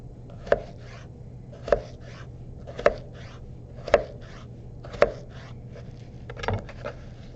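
A knife chops potato sticks into dice on a cutting board: six evenly spaced, crisp thuds about a second apart, close and alone over a faint steady hum.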